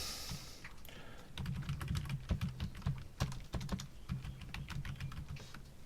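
Fingers type a username on a computer keyboard, a quick, irregular run of close, crisp key clicks after a brief pause, with no talking.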